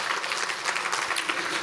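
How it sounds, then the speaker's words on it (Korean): Church congregation applauding during a Sunday service, a bright, dense, even burst of clapping from many people, steady and close for its short length. "박수 한번 크게 주십시오"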